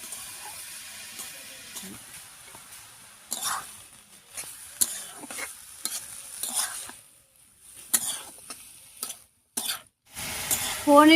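Garlic, green chilli, crushed onion and crushed pointed gourd cook in hot oil over a spice tempering, giving a soft sizzle with bursts of stirring and utensil scrapes that stop and start.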